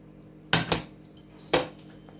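Browned courgettes tipped into a cooking pot for ratatouille, heard as two distinct clattering thuds about a second apart, close and fairly loud, with a brief metallic scrape between them and quiet room background otherwise.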